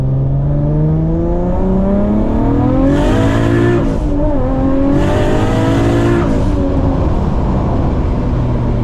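A modified Nissan Skyline R34 GT-R engine revs up hard, pitch climbing in a rising whine with gear changes, loud and close, with a brief tire squeal-like edge.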